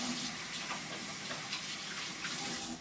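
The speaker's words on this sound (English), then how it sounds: "I might wash my hands" Running tap water streams steadily and close by while hands are washed with peppermint hand soap, making a continuous splashing hiss throughout.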